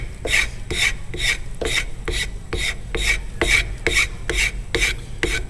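A file rasps across wood, cutting on each push stroke, giving about eleven evenly spaced scraping strokes that are close and fairly loud.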